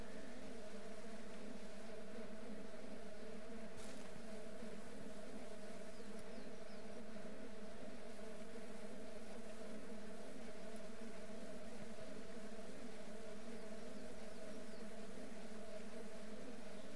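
Bees buzzing around a hive in Ranch Simulator during honey extraction, a steady droning hum that stays even and moderately quiet throughout with no talking.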